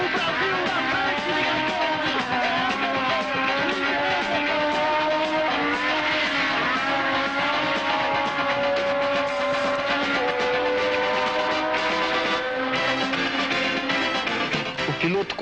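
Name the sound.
Ferrari race car of Ickx driving slowly into the pits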